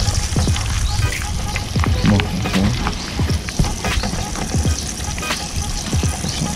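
Large batter-coated chicken pieces deep-frying in oil in a crowded pot for homemade KFC-style fried chicken, giving a continuous loud sizzle with scattered sharp crackles and pops up close.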